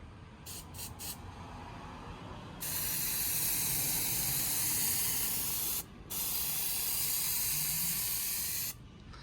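Spray paint applied to the grille of a Chevy Tahoe in a first coat, a few quick test bursts followed by two long, steady hisses, close and loud.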